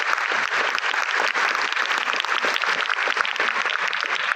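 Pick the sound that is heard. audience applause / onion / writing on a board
audience applause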